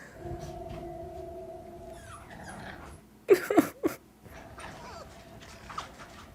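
A puppy whimpers in thin, high whines, then gives a brief burst of louder yelps and cries before settling into quieter whimpering.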